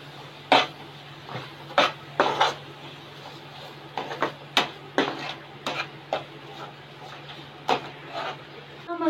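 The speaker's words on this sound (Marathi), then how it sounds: "व्यवस्थित मिक्स करून घेऊयात।" A spoon stirs a homemade Konkani onion-coconut masala in oil in a pan, producing irregular scraping strokes and clinks over a soft continuous sizzle, fairly close.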